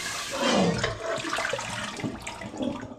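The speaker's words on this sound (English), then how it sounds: "So I'm literally just going to give them a rinse with some hot water." Hot tap water runs over the pans of a fruit steam juicer being rinsed in a sink, a close, rushing splash with shifting gurgles for a few seconds.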